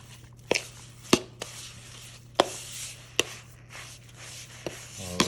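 Garlic butter stirred into a biscuit mixture in a bowl: irregular sharp spoon taps and clacks against the bowl over soft squelching, close by with a low steady hum beneath.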